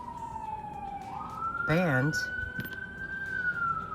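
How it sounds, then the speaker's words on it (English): Emergency vehicle siren passing by outdoors, its wailing tone sweeping steadily up and down across the clip while someone talks over it. "trying to let the siren pass by"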